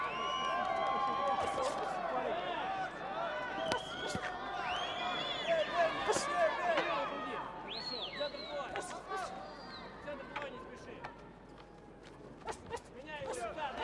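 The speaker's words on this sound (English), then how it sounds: "And you hear the crowd, ladies and gentlemen." A boxing crowd in Almaty roars and cheers throughout a women's pro bout between Firuza Sharipova and Djemilla Gontaruk, a dense, sustained arena din with shouts and whistles rising and falling, under the ringside commentator's voice.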